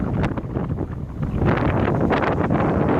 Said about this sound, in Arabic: شوف سرعة الرياح